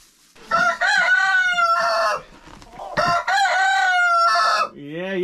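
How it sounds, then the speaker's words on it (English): Buff Orpington chickens squabble inside their coop, letting out loud, close, strained squawks and crow-like calls in several bursts with brief pauses between them. "I think that there's a little bit of kerfuffle inside the coop"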